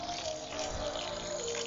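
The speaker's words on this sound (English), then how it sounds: "running it under regular clean water, we're just going to push out that milky white urethane." Paintbrush rinsed under running clean tap water to flush out milky white urethane, a steady broadband splashing and rushing stream, close and continuous, with no talk.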